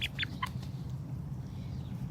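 Dominique chickens in a garden, a few quick high clucks and chirps up close at the start, then a low steady background hum with no talk.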